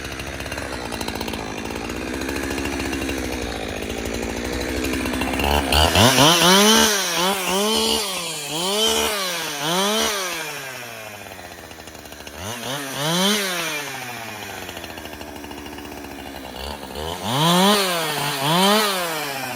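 A chainsaw cuts tree limbs outdoors for tipi poles, idling and then revving up and down in repeated loud, close surges as the blade bites into the wood.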